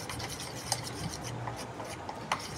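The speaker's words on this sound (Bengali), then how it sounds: "এবার আমি ভালো করে ওটা একটু নাড়াচাড়া করে নেব।" Turmeric powder stirred into a chicken tandoori marinade in a bowl, a soft continuous rubbing and scraping with a few light clinks, close and quiet.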